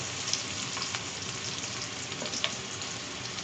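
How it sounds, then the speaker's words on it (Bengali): Chopped onion frying in hot oil in a cooking pot for a Bengali pumpkin and shrimp dish, a steady dense sizzle with faint crackles and occasional light pops throughout, close and continuous with no talk. "এখন এই পাত্রের মধ্যে আমি পেঁয়াজ কুচি দিয়ে দিচ্ছি। তেলটা গরম অবস্থায় আছে।"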